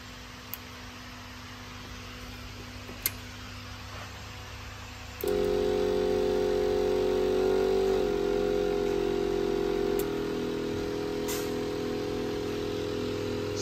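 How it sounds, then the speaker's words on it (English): A smoke machine starts up to pressurize the intake system of a Nissan D40 with a V9X V6 diesel, switching on into a steady loud hum with a tonal whine that drops in pitch partway through. "So just start a smoke machine up and this will start running through and pressurize the whole intake system"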